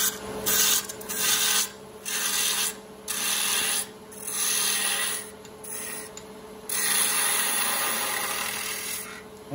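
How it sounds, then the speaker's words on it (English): A wood lathe spinning at high speed turns the bottom of a wooden spinning top held in a collet chuck: a steady motor hum under repeated scraping cutting bursts with short pauses between passes. "we flip it around in the collet chuck and we turn the bottom. Again, turn the lathe speed up high."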